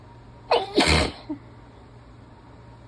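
A single intense human sneeze, loud and close, with a brief sharp intake before the forceful burst and a small trailing sound afterward, then quiet with no talking.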